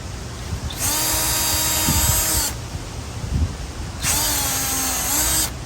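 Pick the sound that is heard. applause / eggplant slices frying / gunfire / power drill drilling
power drill drilling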